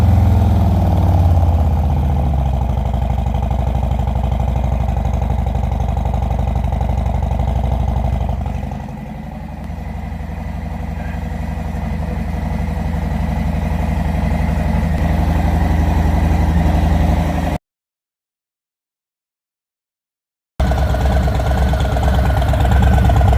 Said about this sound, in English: And this bike here is all out exhaust.